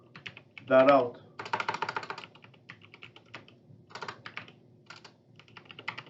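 Quick bursts of typing on a computer keyboard as code is entered, soft rapid key clicks in uneven runs, with a person speaking briefly at the start.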